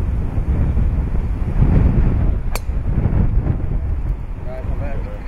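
Wind blows across a golf course in a steady, loud roar buffeting the microphone, with a faint voice briefly audible under it.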